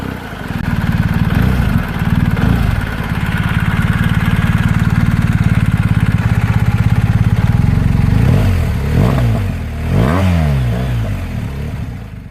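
A BMW boxer twin motorcycle engine, the air-cooled type found in the 1250 GS, runs loud and steady with a deep harmonic throb, then blips through a few rising and falling revs near the end.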